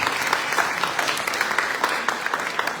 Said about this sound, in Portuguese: Uma salva de palmas para os servos de Jagannath.